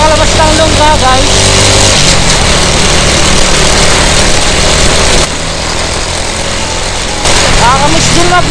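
A motorcycle engine runs close by with a steady buzzing drone, shifting slightly in pitch and dropping a little in level partway through, while someone talks over it.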